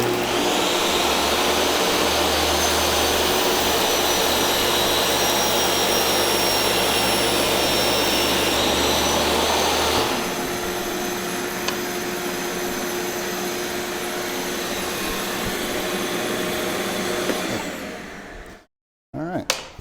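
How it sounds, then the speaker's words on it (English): A power saw runs alongside a shop vacuum in a woodworking shop, a loud steady roar that drops in pitch and level about halfway through, then continues more thinly before cutting off near the end. "Saw on."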